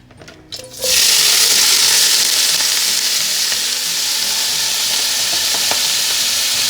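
Cabbage hits a little hot oil for yakisoba and bursts into a loud, steady sizzle that holds close and continuous after a brief quieter start.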